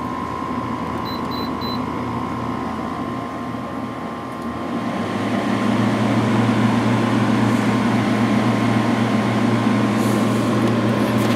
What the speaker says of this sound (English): Turn it on low just for now so you can hear the compressor.